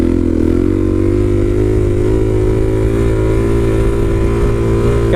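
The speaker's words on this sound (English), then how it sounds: "Got to get a wheelie out of my system here real quick" A motorcycle engine runs loud and close during a wheelie, a sustained droning roar that builds slightly in pitch as the throttle is held.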